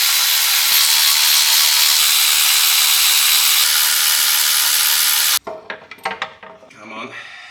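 Four 13mm valve cover bolts being cracked loose on a Ford EF XR6 SOHC six-cylinder engine: a long steady rush of noise gives way to short, close ratcheting clicks and scrapes.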